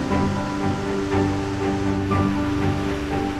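Heavy water overflows the spillway of the Aposelemis dam in a continuous, dense roar of rushing and crashing water that stays loud and steady throughout.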